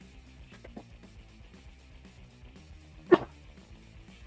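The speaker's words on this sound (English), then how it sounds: "I am gonna sneeze." One short, sharp sneeze bursts out near the end of a quiet stretch, close and loud against faint background noise.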